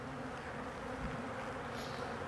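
A dense, steady drone of many honey bees buzzing together in a hive, fairly quiet and continuous with no voices.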